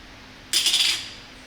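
A single bright metallic click-and-rattle of a lens locking onto a Sony ZV-E10 camera's E-mount, brief and close, in an otherwise quiet space.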